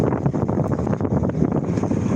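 Strong wind and rain roar and buffet the microphone in rough, pulsing gusts in Mecca, Saudi Arabia, a heavy outdoor rumble with no voices.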